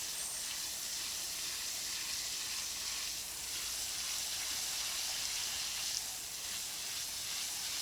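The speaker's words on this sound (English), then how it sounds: "I'm using the hose to push the dirt around to make it flat." A garden water hose sprays steadily across dirt to flatten it, giving a continuous soft hiss that stays even and fairly faint, with no voices.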